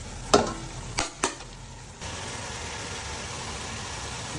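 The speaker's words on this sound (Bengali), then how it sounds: "হালকা একটু পানি দিয়ে দেবো মশলাটা কষানোর জন্য।" Ginger, garlic and cumin spice paste frying in a pan, with three sharp stirring scrapes early on, then a steady close sizzle running on alone with no talk.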